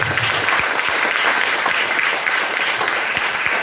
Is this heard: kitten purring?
no